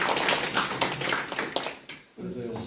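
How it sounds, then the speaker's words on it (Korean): An audience at a village meeting in Deunggok 3-ri, Bugang-myeon, with the city mayor claps in a dense burst of overlapping hand claps, with voices mixed in, then fades to quieter murmur. "박수 한번 주세요."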